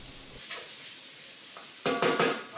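Fresh thyme is stirred into a sizzling pot, giving a quiet steady sizzle broken by a few short scraping stirs that get louder near the end.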